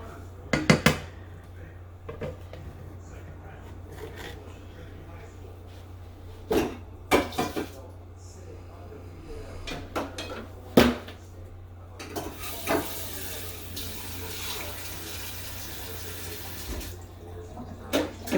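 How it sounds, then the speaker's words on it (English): Ground meat is drained of its grease through a small-holed strainer over a sink, with intermittent splashing, trickling liquid and clinks of metal and pots, plus a faint background television hum. "the next thing is to drain the oil or grease off the meat. So I'm getting my strainer."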